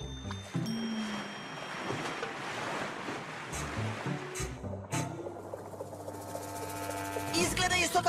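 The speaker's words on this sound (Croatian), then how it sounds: "Hej, prepoznaješ li onaj čamac koji ide ka nama?" A cartoon boat approaches across the water with a sloshing, wave-like wash and tonal effects layered over it, moderately quiet and continuous with a few sharper hits.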